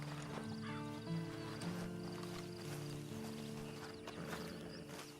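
A horse whinnies and snorts over steady hooves and a droning soundtrack in the game Red Dead Online, with no talking.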